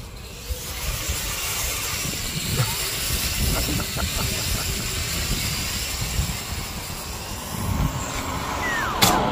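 Strong wind buffets a Nihui U807 drone in flight at night, a steady broadband roar with gusty swells and the faint whine of the motors running underneath throughout.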